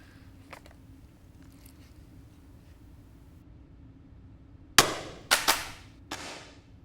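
A paintball gun fires a burst of sharp, loud shots at close range after a stretch of quiet low hum: one crack, a quick pair, then a final shot.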